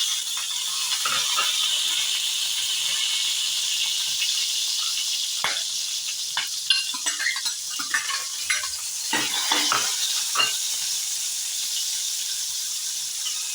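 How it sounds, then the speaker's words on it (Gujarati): Green chillies, curry leaves and cloves hit hot tempering oil for a white, sour-sweet kadhi without turmeric, giving a loud steady hiss with crackles and stirring scrapes throughout, no voices. "હવે આમાં આપણે હવે આપણે નાખીશું આમાં લીલા મરચાં સમારેલા છે મીઠું લીમડું છે અને લવિંગ છે તે નાખી દઈશું"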